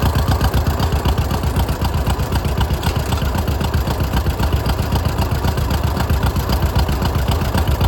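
A 1938 John Deere L tractor engine runs after being hand-cranked, a loud, close, steady chugging idle with an even rapid pulse throughout.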